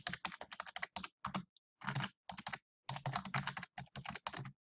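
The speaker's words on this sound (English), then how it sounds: "And I could type that in." Rapid bursts of typing on a computer keyboard, clusters of close, crisp key clicks separated by short pauses, with no voices.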